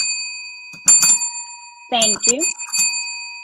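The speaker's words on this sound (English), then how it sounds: "That must be his bell." A bicycle bell rings in a few quick high dings between bursts of conversation, with people talking close by before and after it.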